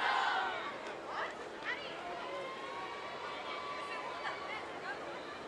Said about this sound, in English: you're starting to get the noise of the crowd